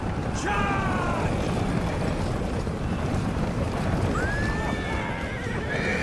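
Cavalry horses in the video game Thrones of Britannia whinny repeatedly over a dense, continuous roar of battle noise and galloping hooves, with shouted voices mixed in throughout.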